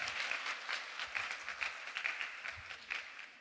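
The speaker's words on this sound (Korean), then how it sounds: "박수 해주세요." A congregation at a Sunday church service claps for a few seconds, a steady, even wash of applause from a nearby crowd with no voices over it.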